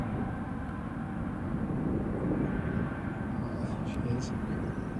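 An Emirates airliner at Newcastle International Airport produces a continuous low engine rumble at moderate distance, with a voice talking over it and a few brief clicks near the end.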